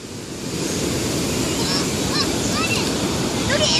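Ocean surf rolling and breaking on a beach, a loud steady wash with wind buffeting the microphone, and faint voices in the background.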